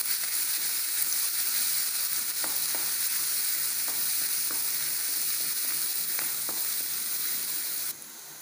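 Chopped and crushed ginger, garlic and green chilli frying in oil for a vegetable biryani, a steady loud sizzle with occasional stirring scrapes and taps, close up with no talk.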